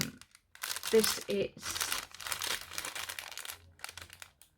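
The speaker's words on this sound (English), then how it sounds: "Sorry for the crinkling." Packaging crinkles close up in bursts of crisp rustling, and a voice speaks briefly over it.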